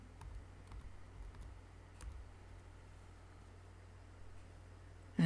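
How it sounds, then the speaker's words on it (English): Faint, scattered key clicks come from someone typing text on a computer keyboard in a quiet room, with a low steady hum underneath. "and type my text again."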